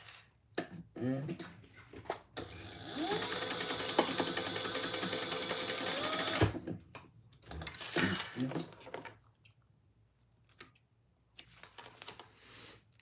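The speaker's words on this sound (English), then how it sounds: "And then we're going to sew that together at the same seam allowance." A sewing machine stitching a seam on a crossbody bag runs in a steady, close whir for a few seconds, then a shorter burst follows, with handling clicks and rustles around it.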